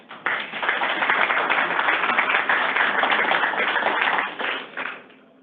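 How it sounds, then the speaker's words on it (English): An audience at an Iowa DOT employee recognition ceremony claps for an honoree, a dense burst of many hands that starts abruptly, holds strong and steady for about four seconds, then thins out with a few last claps. "Give her a round of applause."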